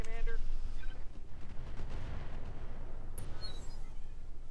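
Mech weapon shot in Roguetech, a heavy booming discharge with a rumbling low tail that fades over a few seconds, close and loud, with a brief tonal chirp near the end.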